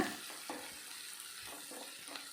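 Curry leaves and green chillies sizzle in hot oil for wheat rava kichadi, a steady, close crackle with a few sharper pops, heard alone without talking.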